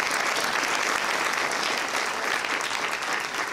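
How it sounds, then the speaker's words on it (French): A dense, steady wash of applause from a large audience at a New Year's greetings ceremony, loud and continuous throughout with no voices standing out. "Je vous demande d'applaudir Madame Courrèges."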